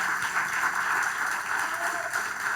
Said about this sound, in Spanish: Den un aplauso al Señor en esta mañana.